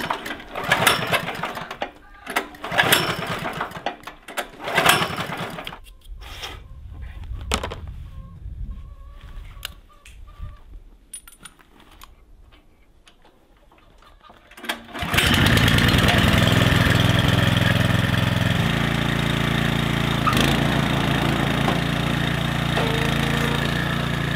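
A flooded gasoline engine on an auger at a cabin kicks into life after people talk and tinker nearby, then settles into a loud, steady, buzzing drone that runs on without a break.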